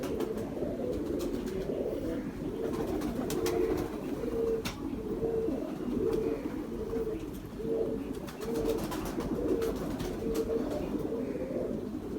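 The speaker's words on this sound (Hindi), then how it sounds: "बड़े हसास कबूतर होते हैं ये" Pigeons coo in low, repeated rolling calls, several birds overlapping close by, with a steady murmur of fluttering and rustling throughout.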